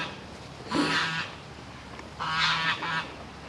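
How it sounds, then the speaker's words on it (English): Waterfowl at a lake call out in two loud honking bursts, the first around a second long and the second with a short follow-up, over a quiet outdoor background. "See the ducks and that along here."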